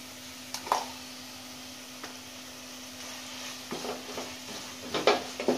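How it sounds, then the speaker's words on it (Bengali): Chicken being stirred in a pan with soy sauce, salt and spices for a Thai chicken soup, with soft scraping and sizzling strokes that grow busier and louder toward the end, under a steady background hum. "এবার চিকেনের সাথে ভালো করে মশলাগুলো মিক্স করতে হবে।"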